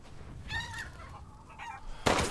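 Rooster clucking in the video game Resident Evil Village, with a few close, throaty clucks and squawks followed by a sharp, loud burst of noise at the end.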